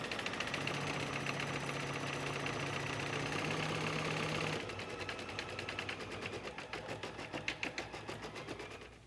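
An embroidery sewing machine stitching a design onto a sweater: a steady, close, busy mechanical whir that shifts midway into a faster rhythmic clatter of needle strokes, with no voices.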